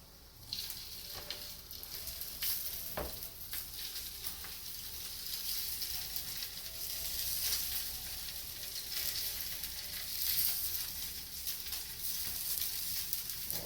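Food sizzling and frying steadily in a pan, turned to cook on each side, a continuous bright crackle with a brief louder pop near the start and no talk.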